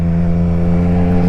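A 2024 Triumph Street Triple RS motorcycle with a slip-on exhaust runs loud and close, its engine holding a steady, droning idle with a strong low hum and no talk.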